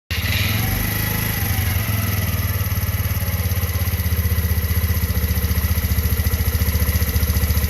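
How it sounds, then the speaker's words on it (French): A motorcycle engine fires up and settles into a loud, close, steady idle with a rhythmic throbbing pulse, heard during a test of the bike's charging system. "Je vais commencer par mettre le contact et démarrer la moto."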